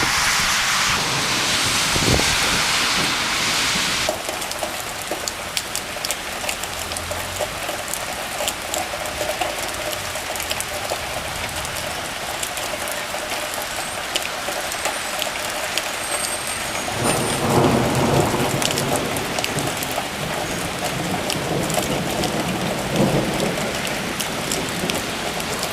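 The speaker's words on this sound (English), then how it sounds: "Boy, did this storm come on quick." Heavy rainstorm with thunder pours down in a steady loud hiss, with low thunder rumbling through it and a stronger roll about two-thirds of the way in, no voices.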